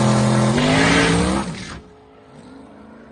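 Drag racing car, a Nova at a drag strip, launches hard with a loud rising engine roar that climbs through gears and then fades quickly into the distance, leaving quiet track ambience.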